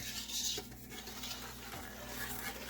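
A spoon stirs vinegar and sugar in a pot for candied jalapenos, making faint, quiet scraping and clinking against the metal with no talking.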